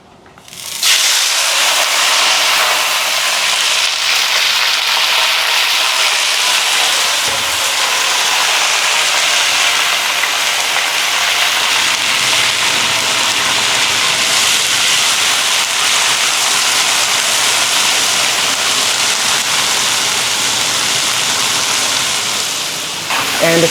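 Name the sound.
stir frying green beans with peppercorns and dried chili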